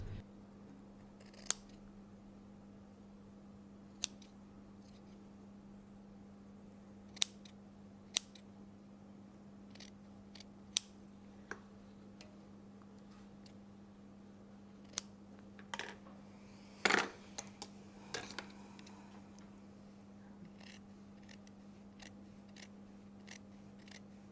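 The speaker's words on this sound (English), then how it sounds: "Notice that I'm cutting just a couple of millimeters." Sharp scissors snip the seam allowance of a cashmere jacket, trimming a few millimeters at the corners; scattered quiet clicks come in short bursts over a steady low hum, with a busier cluster of cuts near the end.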